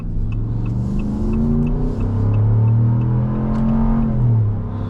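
A 2026 Ram 1500 Laramie with a naturally aspirated HEMI V8 in sport mode while driving, its engine droning loud and close, revs climbing and holding, then easing and rising again, alone without talk.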